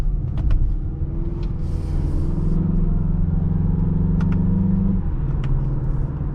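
A 2022 Mazda CX-5 2.5 Turbo engine drones steadily from inside the cabin while driving, a low rumble whose pitch climbs gradually and then drops, with a few faint clicks over it.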